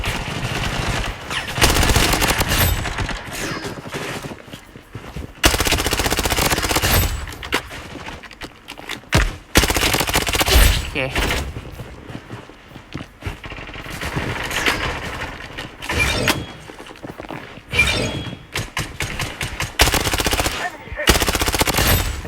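Rapid automatic gunfire from the shooter game Blood Strike, loud and close, with bursts of sustained fire separated by short pauses and other gunshots spread across the whole stretch.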